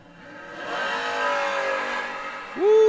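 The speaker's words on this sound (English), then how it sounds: "Woo, this is a good tight drag race." Drag race cars, including Grote's Sidewinder, roar down the strip at the Fall King of the Creek event, a loud sustained engine howl that swells and then surges sharply higher near the end.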